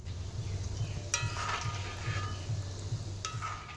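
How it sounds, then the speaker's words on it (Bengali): Khasta goja pieces frying in oil in a pan over a low to medium gas flame, giving a steady soft sizzle with a low hum and a few brief clinks, no voices. "গজাগুলো ভাজার সময় গ্যাসের আঁচটা কিন্তু লো টু মিডিয়াম রাখতে হবে।"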